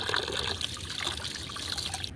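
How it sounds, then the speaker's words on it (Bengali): Ash gourd leaves are rinsed one by one in water, giving a close, continuous splashing trickle with soft wet handling noises and no talk. "সবগুলো পাতা আমি যেভাবে একটা একটা করে ধুয়ে নিতেছি যাতে ময়লা না থাকে"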